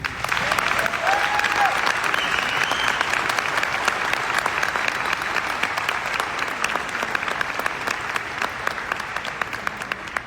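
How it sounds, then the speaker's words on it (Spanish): A book fair audience breaks into strong, sustained applause, a dense wash of many hands clapping evenly for about ten seconds with a faint voice briefly audible. "Un fuerte aplauso para ellos."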